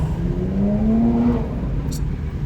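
A BMW M4 roars loudly nearby, its engine note climbing steadily in pitch as it accelerates past before fading into road noise.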